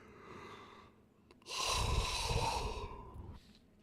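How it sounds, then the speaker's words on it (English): A man puts on an exaggerated fake yawn, a long breathy drawn-out exhale after a quiet lead-in, close and fairly loud before trailing off. "I'm going to fake yawn and see if it makes you yawn."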